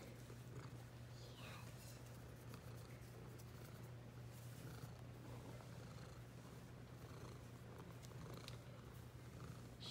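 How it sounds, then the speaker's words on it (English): A pet cat purring close up, a continuous low rumbling drone that holds steady throughout, with faint rustling and a few soft sounds in the background. "Can you hear her purring?"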